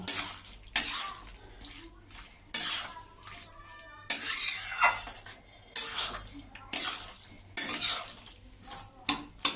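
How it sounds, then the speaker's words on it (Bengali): A spatula stirs a poppy seed curry of pumpkin stems with coriander leaves in a pan, making repeated scraping strokes in uneven bursts, close and fairly loud, with a soft sizzle and moist churning between them. "এবার আমি এর মধ্যে ধনে পাতা দিয়ে দিলাম দিয়ে আমি আর একটু নাড়ব"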